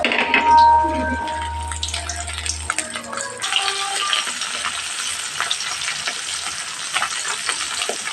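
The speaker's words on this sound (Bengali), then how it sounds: "এখানে পার্শে মাছগুলো ভাজা হচ্ছে" Parshe fish fry in hot oil in a home kitchen, a steady broad sizzle with brief clinks and stirring sounds at the start, the hiss continuing evenly and close by throughout.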